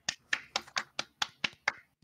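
A small group of friends claps in unison during a spelling game: eight sharp, close claps in an even, steady rhythm with no talking.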